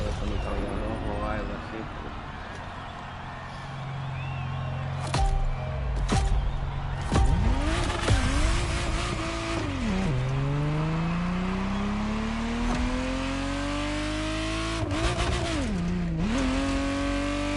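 A red Ferrari Testarossa in the racing game The Crew Motorfest, its engine revving hard and climbing through gears with sweeping pitch rises and drops, tire squeal and passing-car whooshes, loud and close throughout.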